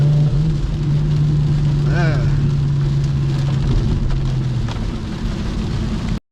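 Steady, loud rain hisses outdoors throughout, dense and unbroken, with a low hum underneath and a brief voice-like sound partway through.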